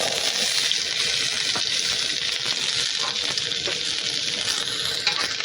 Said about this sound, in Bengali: 1 বাটি আলু কেটে রেখেছিলাম, এটা আমি তেলের মধ্যে দিয়ে দিব।